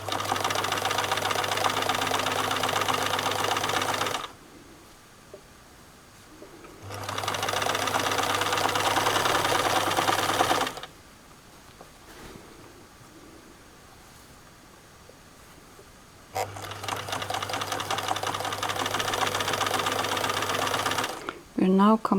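Domestic sewing machine stitching a Greer jumpsuit romper from a Hey June Handmade pattern, running in three steady whirring bursts separated by quiet pauses, close and loud.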